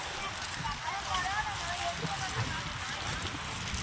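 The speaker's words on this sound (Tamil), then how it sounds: "காற்று வந்து பயங்கரமாக அடிக்குது" Strong storm wind on Marina Beach during Cyclone Fengal roars steadily across the microphone in a continuous rushing hiss, with faint muffled voices buried underneath.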